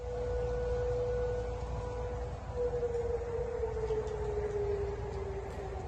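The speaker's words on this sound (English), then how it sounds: "Those are the sounds of rocket sirens going off in Tehran over the weekend" Rocket warning sirens over Tehran, a steady wailing tone that holds and then slowly sinks in pitch, heard from a distance over a broad noisy city hum.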